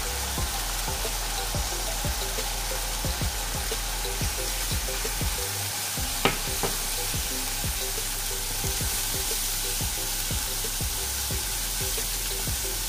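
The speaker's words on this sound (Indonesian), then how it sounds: "Goreng sekejap rempah ini." Kurma spice paste frying in a pan, a steady close sizzle with repeated scraping stirs at a regular pace throughout.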